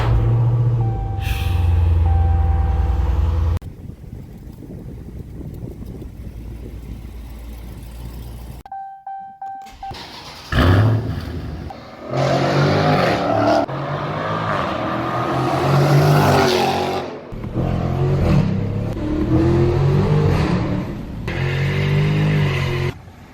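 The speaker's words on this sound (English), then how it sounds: "This could possibly be the last startup in my little garage stall." Dodge Challenger Scat Pack Widebody V8 in a small garage stall, a deep cranking startup followed by a loud, rough idle and repeated throttle revs that swell and fall in close succession.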